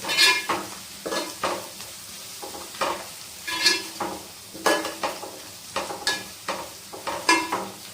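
Masala and chilli powder fry in a pan for a Godavari-style fish pulusu. A spoon stirs in a steady rhythm of short scrapes and sizzling bursts, close and moderately loud throughout.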